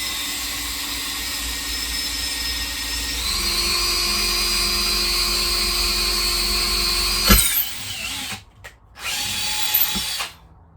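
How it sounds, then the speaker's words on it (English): A power drill bores a pilot hole on a boat, a close steady whine that rises in pitch partway through, then cuts off and gives way to short bursts of quieter drilling. "Right, so I've got a pilot hole."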